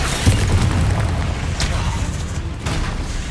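A loud, continuous blasting roar fills the Hogwarts Legacy game as a Confringo spell explodes, with dense crackling bursts throughout.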